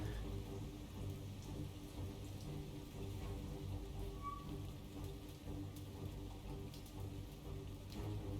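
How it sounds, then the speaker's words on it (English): Steady rain falls during a night naval battle in the War on the Sea video game, a faint, even hiss of drops that goes on the whole time with no talk. "It's raining, so hopefully their visibility is not the best."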